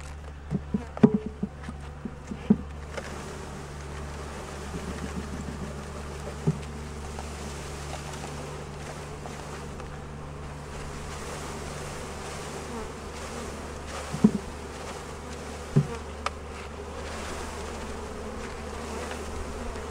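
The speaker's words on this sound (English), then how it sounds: "Lots of bees." Continuous droning buzz of a large swarm of package honeybees being installed in a hive box close by, with a few faint knocks and taps now and then.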